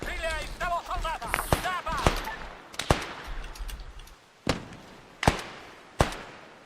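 Gunshots from the military simulator game Arma 3: about eight sharp, loud single reports, some bunched early and then evenly spaced about a second apart, with a voice talking over the first couple of seconds.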